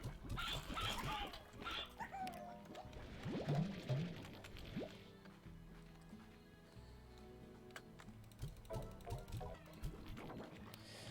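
Chickens cluck in the Slime Rancher video game, with several short clucks and squawks at moderate loudness over a busy bed of game music and ambience.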